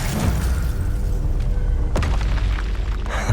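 A spell cast in Hogwarts Legacy lands as a deep, booming impact with a sharp burst near the middle, set against a steady low rumble of game sound; no one talks.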